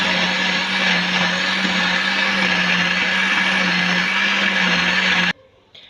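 Loud, steady whir of a blender grinding almonds with fennel and cardamom, close and continuous for several seconds, then cutting off abruptly.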